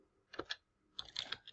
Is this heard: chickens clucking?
no